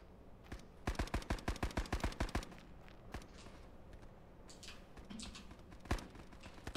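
A machine gun in the WW2 shooter Resolve fires a rapid burst of about a dozen close, evenly spaced shots, followed by a few scattered single shots and quieter rustling.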